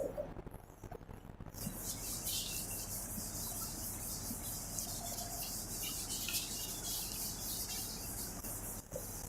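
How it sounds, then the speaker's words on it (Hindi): Steady, continuous rubbing of a duster across a classroom board to erase writing during a maths lesson, a close, even, hissy scrubbing that runs for several seconds without pause. "इसको मैं रब कर देता हूँ एक बार"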